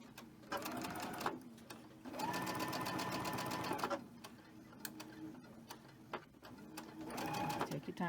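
Sewing machine stitching quilt pieces in short runs of rapid, rhythmic mechanical ticking broken by pauses, close and faint, with a person talking over and between the bursts.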